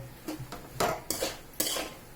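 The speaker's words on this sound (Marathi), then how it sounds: "हे सर्व मंद आच्यावर पूर्ण परतून घ्यायचा" A utensil scrapes and knocks against a kadhai in several uneven strokes, soft and close, as raw mango with jaggery is stirred over low heat.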